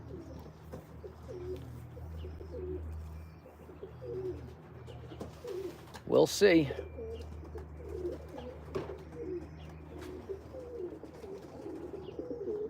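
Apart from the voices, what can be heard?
birds making a ruckus while waiting to be fed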